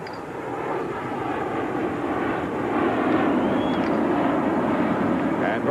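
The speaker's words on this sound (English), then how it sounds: "the airplanes have been flying now right over Shea for the better part of 5 hours" Airplanes flying low over Shea Stadium during a 1986 NLCS baseball game, a broad roaring engine wash that swells toward the end above a crowd murmur and broadcast talk.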